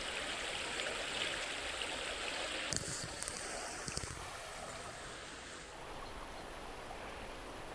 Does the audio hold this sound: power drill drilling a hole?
no